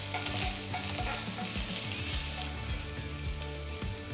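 Chopped garlic and ginger fry in a tablespoon of oil in a pan, giving a steady, loud sizzle with occasional stirring scrapes throughout, under a background of tonal sound.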